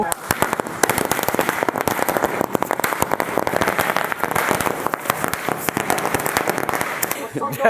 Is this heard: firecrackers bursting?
yes